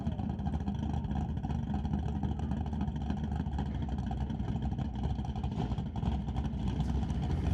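Drag racing cars, a Model A chasing a Chevy Bel Air down the quarter mile at a street-class event, roar as a steady, loud engine drone that fills the whole stretch with no talk over it.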